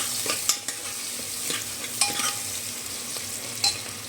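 Onions sautéing in a pan for a homemade jigri recipe: a steady sizzle underneath, with a few sharp scrapes and clinks from stirring at irregular intervals.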